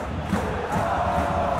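Football stadium crowd during a Bayern München versus Hertha BSC match, a sustained dense roar of many voices rising in urgency as fans call on a player to shoot, steady and enveloping throughout.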